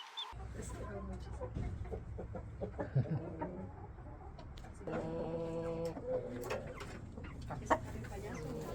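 A rooster clucks and calls on a farm in Costa Rica, its harmonic cries rising midway through. People talk throughout, and scattered bird sounds and handling noises fill the space around it.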